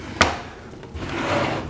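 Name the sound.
enclosure door panel dropped into rear groove of drum sander stand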